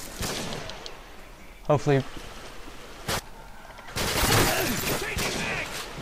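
Noob tube grenade launcher rounds fire and explode in Modern Warfare 2, with several booming bursts and crackling blasts amid the battle din, while a player talks briefly over the action.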